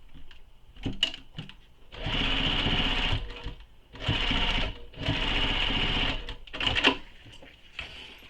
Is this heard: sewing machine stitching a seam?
yes